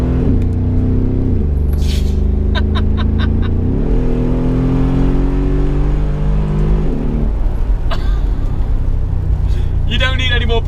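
A Brabus G700 Widestar Mercedes truck engine drones loud and close, its pitch climbing and then dropping in steps as it revs and pulls through the gears.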